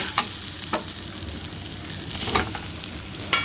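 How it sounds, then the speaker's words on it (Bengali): Fried eggs are stirred and sautéed into a pointed gourd (potol) curry in a pan: a moderate sizzle runs throughout, broken by a few sharp clinks and scrapes of the spatula. "আমি ভেজে রাখা ডিমগুলো দিয়ে দেবো দিয়ে এক মিনিট মতন আমি কষিয়ে নেব"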